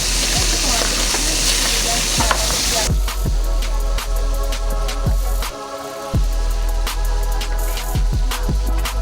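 Capitaine fish fillets sizzling in a hot pan after being flipped to brown the second side: a steady frying hiss with scattered pops and clinks, running under occasional talk.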